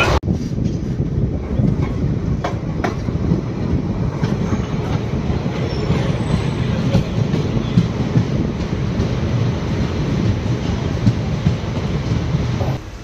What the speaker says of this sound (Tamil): நம்மளோட மயிலாடுதுறை மன்னார்குடி எக்ஸ்பிரஸ் கிளம்பிடுச்சுங்க